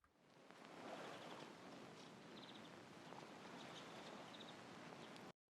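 A layered lo-fi ambience bed of vinyl crackle and hiss mixed with an ocean-wave wash runs as a steady, soft, filtered noise with faint high chirps above it, then cuts off abruptly.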